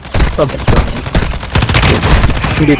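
Rapid gunfire bursts from a laser-sighted gun in Call of Duty Warzone Mobile, loud clustered shots and clattering impacts filling the whole moment, with other game noises mixed in.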